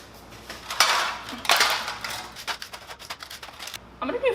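A spoon or spatula scrapes and knocks around a bowl while chia seeds are folded into muffin batter, a few close, uneven strokes with light clinks and a soft scrape near the end.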